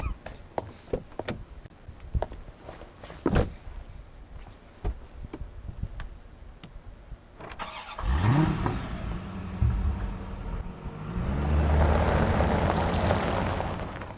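A car in the NTE video game drives off after scattered clicks and taps, its engine surging and revving up loudly, then holding a sustained roar with a rising whoosh near the end; no talking is heard.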